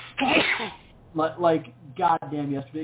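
A single sharp sneeze bursts out loud and close at the start, followed by someone talking.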